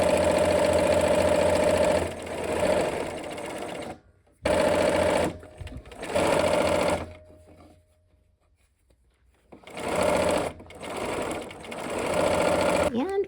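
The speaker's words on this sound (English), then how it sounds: "Okay, let's sew." Sewing machine stitching curved-pieced quilt blocks into a nine-patch, running in loud sustained bursts separated by short pauses, with a quiet stretch in the middle before stitching resumes.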